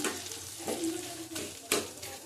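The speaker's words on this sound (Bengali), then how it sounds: "এইভাবে ঘেটে নেবো আলুটা" Soft scraping and stirring of boiled potato being mashed in a pan, with short clinks of a utensil against the metal and a faint sizzle beneath, close and fairly quiet.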